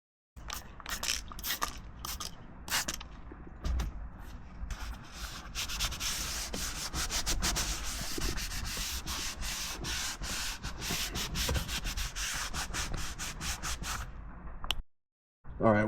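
A scrub pad rubs rapidly back and forth across the leather steering wheel of a BMW E93 M3, making a close, dense scratchy scrubbing that continues for most of the stretch before a brief pause, with no talking.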